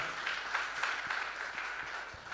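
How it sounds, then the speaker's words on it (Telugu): A church congregation clapping together, a steady, distant wash of many hands with a few sharper claps standing out, faint and continuous throughout. "ఒకసారి చప్పట్లు కొట్టి దేవుడిని మహిమపరుద్దాం"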